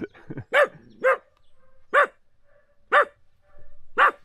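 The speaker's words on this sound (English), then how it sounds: "Now the barking is starting again because there's dogs across the river." Dogs bark from across a river in a series of distinct, fairly distant barks spaced about a second apart, with a low rumble between them.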